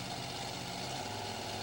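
A Bigfoot monster truck with a fiberglass body and a 1,500-horsepower big Ford engine idles at a Fresno monster truck event, a steady dense rumble heard from a distance without a break.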